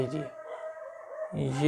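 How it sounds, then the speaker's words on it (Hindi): Dogs bark outside during a math lesson, with a short yelping burst at the start and another near the end, separated by a quieter stretch. "कुत्ते भौंक रहे हैं, उनको मत सुनिएगा"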